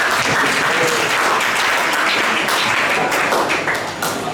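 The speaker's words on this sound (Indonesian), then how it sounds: "Tepuk tangan untuk kalian." An audience at an event claps loudly and continuously, a dense sustained wash of applause that tapers slightly toward the end.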